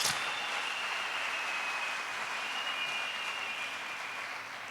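Audience at a New Year 2023 speech applauding and cheering, a continuous wash of clapping with a sustained whistle-like tone on top, steady and fairly loud for the whole stretch.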